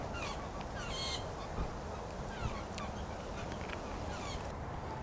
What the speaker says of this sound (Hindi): आई डोंट नो कि आप लोगों को परिंदों की आवाज़ें आ रही या नहीं आ रही